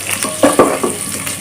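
Chopped onion frying in a pan of oil with fried spices for veg pulao, with short sizzling bursts and a few clinks of a spoon against the pan, close and brief.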